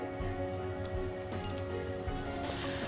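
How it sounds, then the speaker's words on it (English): Red onions sautéing in olive oil in a pan, a steady close sizzle and crackle with a few light clinks of a utensil against the pan, no talking. "what we're gonna be doing is we're gonna be sauteing them to a very good golden brown"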